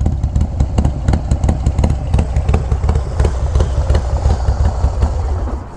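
A motorcycle with a long exhaust pipe idles close by. It sounds loud and deep, with an uneven galloping lope of rapid low thumps that pulse steadily the whole time.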